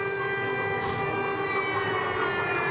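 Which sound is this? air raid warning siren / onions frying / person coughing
air raid warning siren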